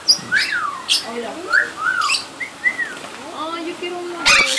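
Parrots and small yellow birds in a pet store chirp and whistle in quick rising and falling calls, close and lively, with a short clatter near the end.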